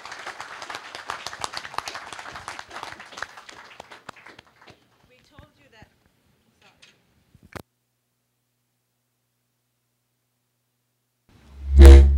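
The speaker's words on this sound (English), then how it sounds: "Another round of applause for Stacio, please." Audience applause at an e-government launch event in St. Kitts and Nevis, a dense patter of clapping for the first four seconds that thins into a few scattered claps, then a loud thump near the end.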